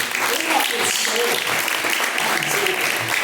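A church congregation applauds in praise of God, a steady wash of many clapping hands with voices faintly mixed in, continuing for about three seconds.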